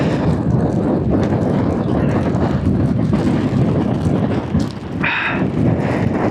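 Strong wind gusts battering a microphone at an exposed wild camp, a constant loud roaring rumble that briefly dips before surging again, with a faint tonal whistle breaking through near the end.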